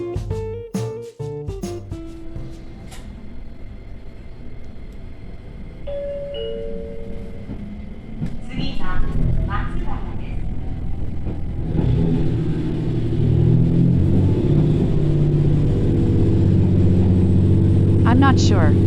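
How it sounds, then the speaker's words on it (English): A hybrid diesel-electric train pulls away from Omura Depot Station, opening with a few sharp clanks, then a low engine rumble that swells and holds steady, loud and close. "Let's listen to the sound of the hybrid train that departs from Omura Depot Station."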